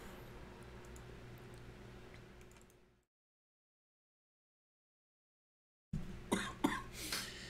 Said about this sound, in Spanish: Perdone que estaba tosiendo